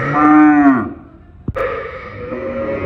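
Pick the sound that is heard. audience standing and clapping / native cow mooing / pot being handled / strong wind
native cow mooing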